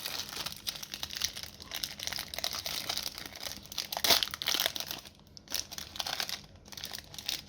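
Opening a Pokémon Charizard Ultra Premium collection card box, with steady close crinkling and rustling of plastic wrap and packaging that rises in a louder tearing moment near the middle.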